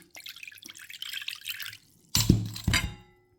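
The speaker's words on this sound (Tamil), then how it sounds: "தண்ணியை வடிச்சு எடுத்துருவோம்" Water trickles and splashes as it is drained off soaked food, a soft running stream followed by two louder splashy gushes, then it stops.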